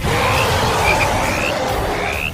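A frog croaks by a riverbank, calling to its companions with a string of short, rising chirps repeated over a steady, noisy outdoor background.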